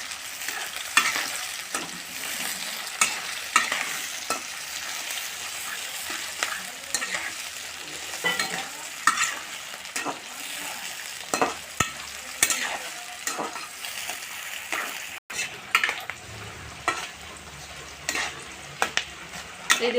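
Onions and slit green chilies fry in a pan while a utensil stirs them, giving repeated scraping clacks over a steady sizzle that stays close and fairly loud throughout.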